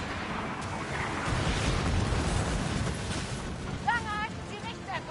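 Ship cannons fire in the pirate naval game Skull & Bones, heavy booming blasts and rumbling eruptions rolling together through the first few seconds, followed by quieter battle ambience and brief tonal effects.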